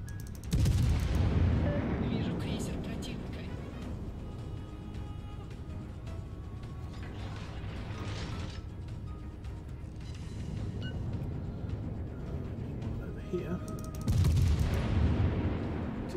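Naval guns firing in the World of Warships game, heavy deep booms at the start and again near the end with rumbling between, a voice speaking briefly.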